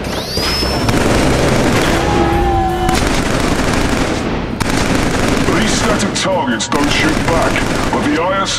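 Loud, sustained weapon fire and heavy booms in the first-person shooter video game Killzone 3, with rapid shots packed together and barely any pause across the stretch.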